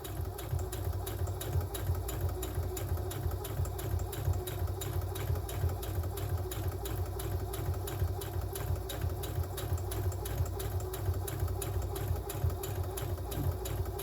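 A sewing machine stitches a small seam on fabric bunting flags. It gives a steady, rapid mechanical chatter that runs close and unbroken throughout, with no voices.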